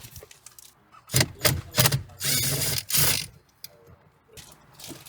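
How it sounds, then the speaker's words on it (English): Screws being driven out of a dashboard panel on a 2011-2015 Kia Optima, heard as a run of short whirring bursts from a driver, then a longer steady spin, close by with quiet pauses between. "we just have to remove all these screws right here"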